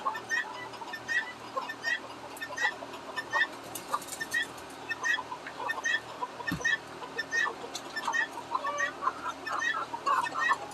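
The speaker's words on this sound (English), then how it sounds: "silkies are another one of my absolute favorite birds to raise" Silkie chickens cluck and murmur in a backyard flock, with soft repeated clucks, short calls and a few louder squawks scattered over a low steady hum, close and continuous.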